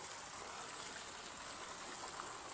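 Steady rushing of water being drained out of a tank, a constant broadband gush close by with no talking over it.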